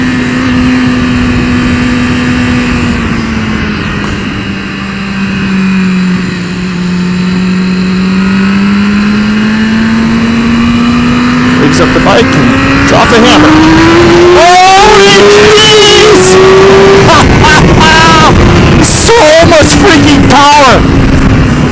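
A 2015 BMW S 1000 RR sport motorcycle engine pulls steadily and then revs harder and higher, loud and close, with rapid throttle changes and shifts near the end, and wind noise throughout.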